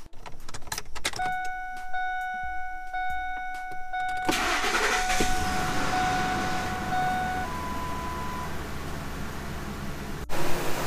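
A 2003 Ford F-150 fresh from new spark plugs and coil packs, with door chimes and a key turning before the starter cranks and the engine catches, settling into a steady idle close by.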